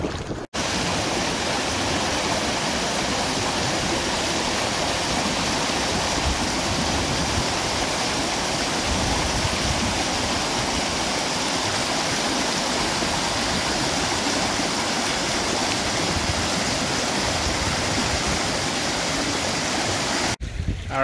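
Steady, full-band rushing water from the French River flowing into Lake Superior, a continuous broadband roar close by that holds constant for about twenty seconds with no talk.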